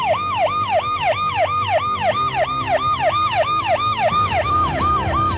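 A siren fitted to an expensive car heading to Rajasthan University wails in rapid, regular rising-and-falling sweeps, loud and close, repeating about twice per second without pause and with no talking over it.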